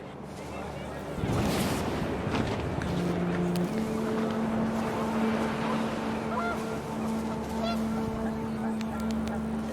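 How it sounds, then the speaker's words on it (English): Panicked geese honk in the wind in What Remains of Edith Finch, a burst of gusty noise followed by steady droning honks over a windy, watery backdrop. "The wind picked up, and panicked geese appeared and quickly went."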